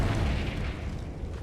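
A booming blast from a blasting spell in a fantasy video game: a low, rumbling explosion that rolls on steadily and slowly fades, heard alone without voices.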